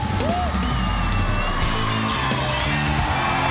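A Chinese TV variety show's studio audience cheers and whoops loudly for the host's entrance, a dense, continuous roar of crowd noise with music underneath.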